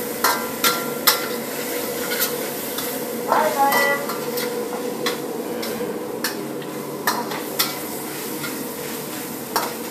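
Pakistani-style chicken karahi sizzles in a pan while a utensil stirs and clanks against the metal in irregular sharp knocks over a steady frying hiss, close by, with faint voices in the background.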